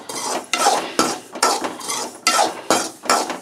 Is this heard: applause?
no